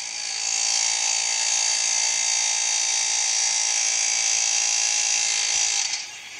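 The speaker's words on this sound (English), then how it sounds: "it still takes a good bit of air hammering to break the rivet free." Continuous high-pitched buzzing chatter of an air hammer breaking a rivet free on a lower ball joint, with the rivet flange heated red, running unbroken for several seconds before cutting off.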